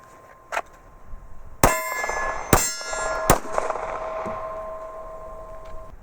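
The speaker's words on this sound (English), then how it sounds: "there's a ringing headshot there" Bullets from a Glock 19 strike a steel target at a shooting range. Several sharp metallic clangs ring out, each followed by a lingering, bell-like ring that slowly decays, with quieter impacts in between and no talking.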